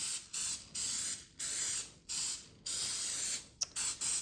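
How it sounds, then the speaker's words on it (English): Several short bursts of cooking spray onto a baking pan hiss out in quick succession, close and fairly loud, with brief pauses between them. "I'm going to give it a spray"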